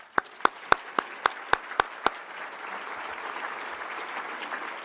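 Applause from a crowd at a library fundraising lunch, opening with eight sharp, evenly spaced claps before steady clapping continues at moderate volume.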